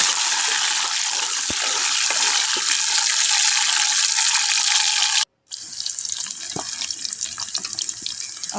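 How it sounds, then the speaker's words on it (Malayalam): Mustard seeds crackle and sizzle in hot oil in an outdoor morning kitchen, a steady dense frying hiss that runs loud and continuous with a brief break near the end. "അപ്പോൾ എണ്ണ ചൂടായപ്പോൾ ഇതാ കടുക് ഇട്ട് കൊടുത്തിട്ടുണ്ട്."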